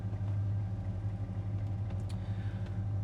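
A 1967 Pontiac GTO with its engine running, a steady deep low rumble heard from inside the car at a constant idle-like pace.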